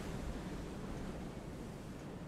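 Ocean waves in a fishing video game at dusk, a steady broad wash of surf and wind noise, moderately quiet and continuous, with no voices.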